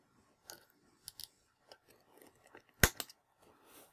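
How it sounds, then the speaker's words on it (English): Small scissors trimming thin wires on a vape coil build, a series of quiet, sharp snips and clicks scattered through near silence, with one louder cut near the end. "So now we should really trim these wires. And I'm going to use my little scissors again."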